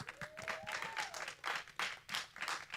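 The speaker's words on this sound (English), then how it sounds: "Let's give her a clap for that." Audience applause at a mental health talk, quiet and a little distant, coming in uneven bursts of clapping, with a faint whistle-like tone gliding in near the start.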